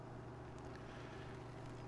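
A tractor engine in the video game Farming Simulator 17 drones low and steady at an even idle, sitting close and alone with no talking.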